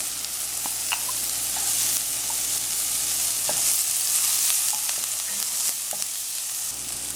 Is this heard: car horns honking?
no